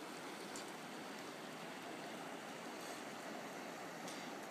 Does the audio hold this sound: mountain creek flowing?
yes